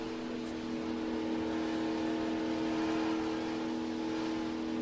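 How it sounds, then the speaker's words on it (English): A car engine holds high revs near the rev limiter, a continuous steady whine with several tonal layers at moderate level and no speech. "I'd get up to the rev limiter and just hang right there, right underneath it"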